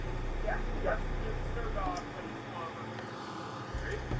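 A dog at a home where an RV fire has just been put out gives a few soft yips and whimpering barks, faint and partly under people talking nearby.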